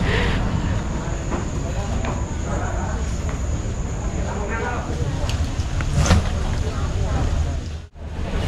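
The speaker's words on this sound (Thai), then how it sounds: "ตอนนี้รถไฟก็มาแล้วนะคะ" A train pulls into a station in Thailand, its low rumble and clattering wheels filling the platform. Someone talks over the steady mechanical noise.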